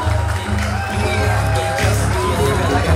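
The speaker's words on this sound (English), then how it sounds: "let's have a round of applause for these ladies" A close, lively crowd cheers and whoops continuously, with shouts rising over a dense wall of voices after a women's fight.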